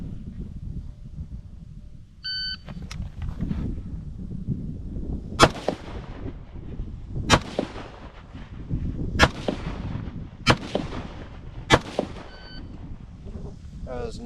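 IWI Tavor X95 rifle fired at targets outdoors: six sharp, loud single gunshots at uneven intervals of one to two seconds, each with a short echo, over wind noise and a few electronic beeps.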